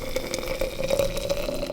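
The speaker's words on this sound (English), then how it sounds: "we are just gonna pour boiling water over them" Boiling water poured into a jar of white pine needles, a continuous close gurgling pour with a steady liquid tone and no talking.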